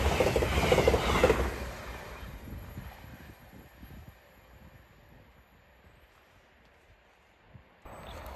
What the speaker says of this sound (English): Next service pass through is a cross country service off to